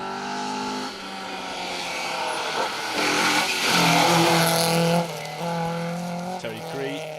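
A BMW 2002 Ti rally car driving a stage at the Woodpecker Rally, its engine revving hard and rising and falling through gear changes, loud and close, with a voice talking over it.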